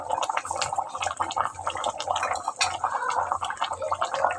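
A pot of chicken curry boils on the stove, thick liquid bubbling and popping in quick, irregular bursts close by with no talking.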